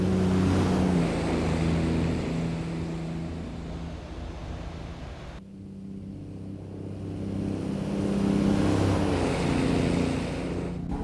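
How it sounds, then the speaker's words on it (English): Mack E6 truck engine with straight pipes heard from outside in American Truck Simulator, a steady deep rumbling drone that drops briefly midway, then swells again as it revs. "The straight pipe engine sounds are just always really good, and this is all by the same mod author."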